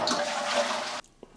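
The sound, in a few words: toilet being flushed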